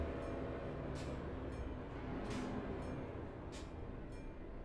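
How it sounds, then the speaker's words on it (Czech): In Euro Truck Simulator 2, a short train passes a level crossing as a low, continuous rumble of rolling wagons, heard from a stopped truck, with a few brief higher whooshes riding over the steady drone. "No a ještě to vypadá, že dokonce se stopneme úplně, protože tady pojede vlak"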